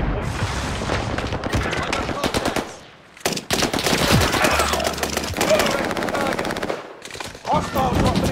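Rapid automatic gunfire from a Call of Duty Warzone Pacific Resurgence match, loud and dense bursts of machine-gun fire with booming shots, a brief lull midway, then more sustained firing.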